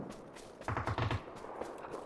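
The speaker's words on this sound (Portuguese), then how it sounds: "tem uns tiros perto de mim aqui" A short burst of rapid gunfire from a video game, fairly close, with a few quicker pops before and after.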